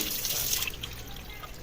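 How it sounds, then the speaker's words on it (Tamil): Aloe vera leaves are washed in running water, a close, steady splashing rush with small dripping and handling sounds over its short length. "கத்தாலையை நல்லா தண்ணியில் கழுவுறோம்"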